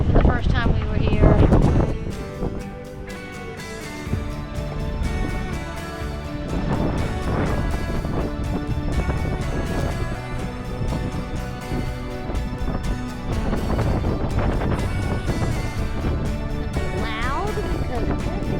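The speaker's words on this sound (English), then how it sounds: "Loud because it's windy." Strong wind buffets the microphone in loud gusty rumbles, with a crash near the start and people talking underneath.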